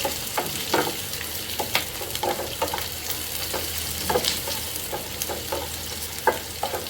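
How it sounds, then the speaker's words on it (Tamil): Green chillies and onions sauté in a pan for a coconut-free Madurai chutney, a continuous close sizzle broken by frequent stirring scrapes and spoon knocks. "நல்லா பச்சை மிளகாவும் வெங்காயமும் நல்லா வதங்கட்டும்"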